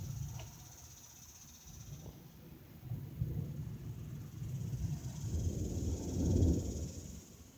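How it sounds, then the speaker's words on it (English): Thunder from a gathering storm rolls low and distant, swelling into a deeper rumble near the end over a background of faint insect buzz. "Listen to thunder."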